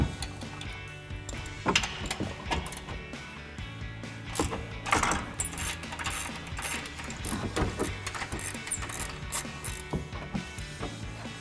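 A ratchet clicks rapidly and unevenly while 21mm upper control arm bolts come off a RAM 1500 during a suspension lift install, with metallic clunks and shifting tool noise close by.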